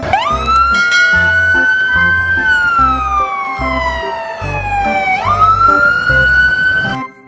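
A toy fire truck siren wails up and down in long electronic sweeps over a pulsing beat, loud and close, with no talking.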